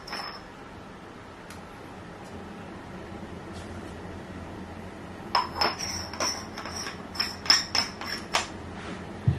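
Ground coffee tipped into a V60 pour-over dripper, a quiet hiss at first, then a run of sharp light taps and clinks of scoop and glass, close and otherwise alone.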